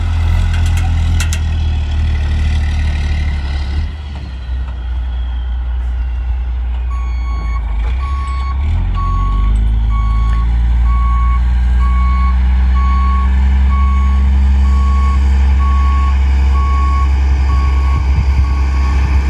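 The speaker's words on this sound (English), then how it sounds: "I've got a buddy here showing up with his truck and trailer" A truck and trailer fitted with a large winch backs up with a steady, repeating reversing beep over a loud, continuous diesel engine rumble, with no talk.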